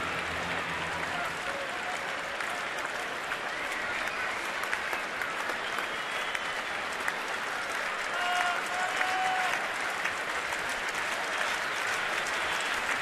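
Baseball crowd clapping steadily at a Syracuse ballpark game, applauding for an out, a dense continuous wash of hands from a large stadium audience with a faint voice over it.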